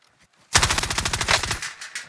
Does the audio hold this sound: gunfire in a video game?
yes